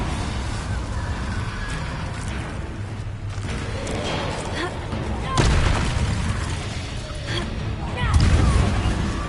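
Spell explosions from Confringo being cast in the Hogwarts Legacy game: repeated booms and bursts over a busy, noisy background, with sharper impacts near the middle and the end.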